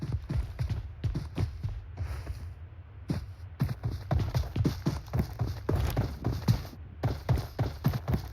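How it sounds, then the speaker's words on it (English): Rapid footsteps in a mobile battle royale shooter played on an Android emulator, a steady run of heavy rhythmic thuds close by with a few brief pauses, and no talk. "then I heard footsteps"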